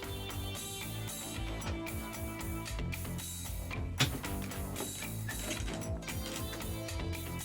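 A circuit board assembly machine places components at high speed, a steady stream of rapid mechanical clicks, ticks and whirring gears, fairly quiet and dense throughout.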